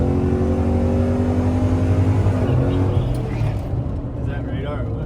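A 700 HP procharged 416 stroker truck at full throttle on the street, its engine a loud, steady roar that climbs in pitch and then eases off near the end, heard from inside the cab.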